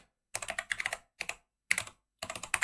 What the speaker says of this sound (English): So just type your password, press enter.